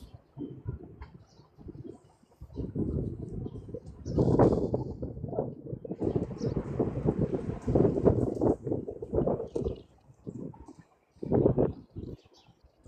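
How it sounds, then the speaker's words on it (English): Gusty wind buffets the microphone outdoors during fishing, low rumbling bursts that rise and fall in uneven waves, with a faint bird call or two above it. "This is the wind."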